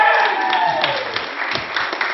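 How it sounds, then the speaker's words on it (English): Audience applause at an indoor evening talk honoring animal rights activist Ronnie Lee, with steady dense clapping throughout and no spoken words over it. "Can we have another round of applause, please, for Ronnie Lee?"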